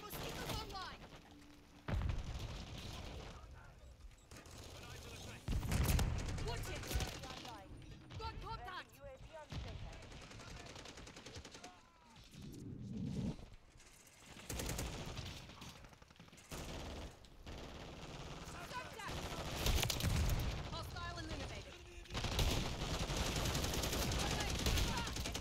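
Automatic gunfire from a remote turret in Call of Duty, bursts of rapid shots and booms layered through a dense game mix, loud and nearly continuous, with a voice talking over it at times.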